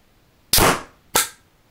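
Two sharp shots from a Mech Pneu airsoft marker, each a loud crisp pop with a short fading hiss of air, spaced about half a second apart with quiet between.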